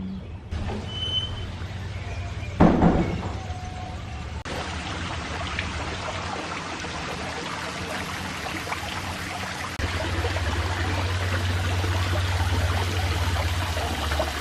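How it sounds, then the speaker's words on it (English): A dense, steady hiss of falling rain with a low rumble beneath, continuous throughout, growing slightly heavier toward the end. "the rain has started to fall"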